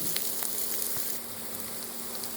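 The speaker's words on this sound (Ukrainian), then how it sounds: "Цибульку смажимо до золотавого кольору." Steady sizzling of onions frying in hot oil, a constant crackling hiss with occasional small pops, fairly quiet and close.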